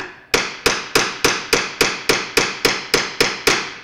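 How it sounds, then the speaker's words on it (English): A hammer strikes a metal bracelet-forming stake about twelve times in a steady, even rhythm, each blow sharp and ringing, close and loud. "You have to listen for a solid hit. If it sounds wobbly, you're not hitting the middle of the stake."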